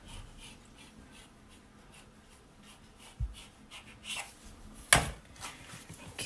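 A knife cutting homemade filo pastry into four pieces on a board, a soft rhythmic scratching followed by a few louder taps and one sharp knock, quiet and close, with no talking.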